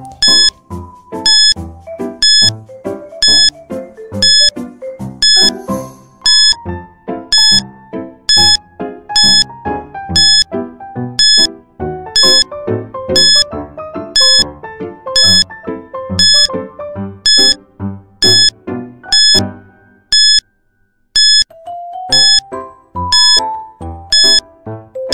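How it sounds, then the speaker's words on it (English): A countdown timer plays for a 30-second quiz activity, with loud, regular ding-like beeps about once a second over a busy musical backing, running steadily to the end. "You have 30 seconds to answer this activity. And your timer starts now."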